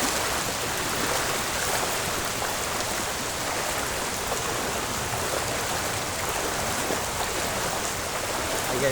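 Floodwater from Typhoon Carina rushes through a swollen creek, a dense, steady roar of flowing water that stays loud and unbroken throughout, with no talk.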